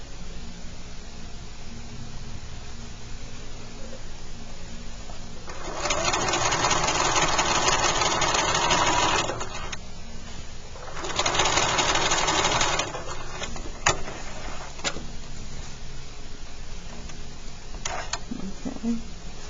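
Sewing machine stitching fabric in two runs of steady, rapid mechanical whirring, the first longer than the second, separated by pauses with quiet background and a few small clicks.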